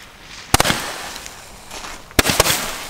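Two bursts of sharp reports come from an Xplode red-green Roman candle, each a quick cluster of loud pops trailing into fizzing crackle against a quiet outdoor background.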